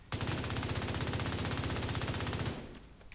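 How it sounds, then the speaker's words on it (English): Automatic gunfire in The Division 2 rattles in one fast, sustained burst of about two and a half seconds, loud and dense, then cuts off into quiet. "That gunfire's outside."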